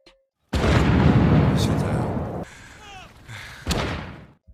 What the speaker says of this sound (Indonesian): Kini para klan Firewind mulai mencari keberadaan mereka dengan menembakkan basoka di setiap sudut bukit.